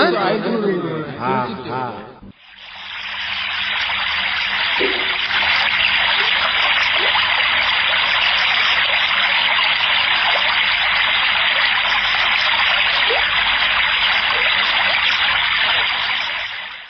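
River water rushes steadily in a loud, continuous broadband wash near a riverbank, preceded by a brief burst of other sound at the start.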